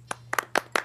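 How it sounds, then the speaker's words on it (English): Four or five sharp, separate hand claps in quick succession at a news roundtable, close and dry, with a low steady hum underneath. "Let's hear a round of applause for them."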